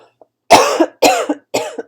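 A harsh coughing fit: three loud, close coughs in quick succession, each a rough burst with a short catch at the end.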